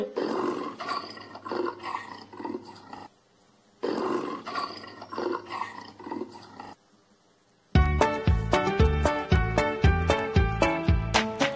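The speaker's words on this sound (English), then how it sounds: "jaguar says roar roar" Two long, rumbling big-cat roars sound close by, separated by a short silence, followed by a burst of bright rhythmic music.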